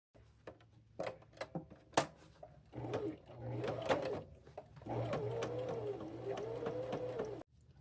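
Sewing machine running a straight stitch through fabric while making a tunic, heard in short starts and then longer steady bursts of mechanical whirring, close up, with faint background noise.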